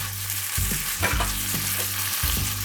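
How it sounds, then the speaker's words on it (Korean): Finely chopped meat stir-fried in a pan, a close sizzle with rhythmic scraping strokes of a spatula repeating every half second or so, and a steady hum underneath. "고기는 잘게 잘라 수분이 없도록 볶아줍니다."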